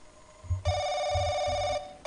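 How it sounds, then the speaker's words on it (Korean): A telephone rings loudly with a bright electronic tone for about a second, stops briefly, then starts again. Low, muffled thumps sit underneath. "시끄러워 전화기야."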